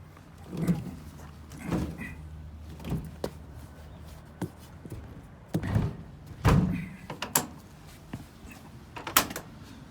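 Truck passenger door handled during a CDL pre-trip inspection, a series of close thunks, latch clicks and slams spaced irregularly over several seconds, with faint outdoor background.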